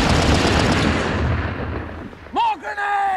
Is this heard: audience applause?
no